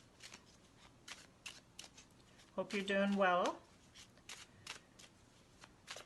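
Tarot cards being shuffled by hand, a series of crisp riffling flicks and taps at an irregular rhythm, close up, while someone speaks briefly over them.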